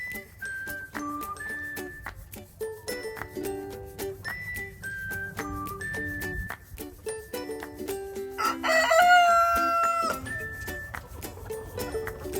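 Backyard chickens eating eggs in fall or winter, with a rooster crowing once loudly near the middle over steady clucking, chirps and whistle-like calls throughout.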